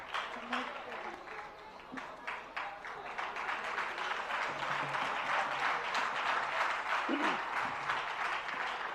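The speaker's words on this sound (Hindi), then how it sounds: "जोरदार तालियां सभी के लिए" Audience applause at a Jain religious discourse and question-answer session, a dense, steady wash of many hands clapping that holds for the full nine seconds, with a few voices faintly mixed in.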